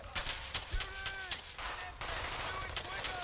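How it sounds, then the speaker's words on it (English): Rapid bursts of automatic gunfire ring out in a World War II shooter, Brothers in Arms: Hell's Highway, with sharp repeated shots, loud and close, running almost continuously with little pause. "who's shooting at me?"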